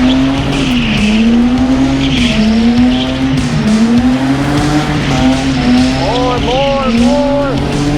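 A drift car circles in donuts at Achna speedway in Cyprus, its engine droning steadily while tires squeal in rising, wavering whines that grow sharper near the end, with people shouting excitedly over it.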